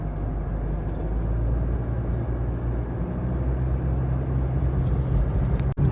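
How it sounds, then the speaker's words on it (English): A 1993 Mitsubishi Pajero V46 drives through rainforest, heard as a steady low engine drone and road rumble from inside the cabin. A sharp knock comes at the very end. "Driving through the rainforest right now."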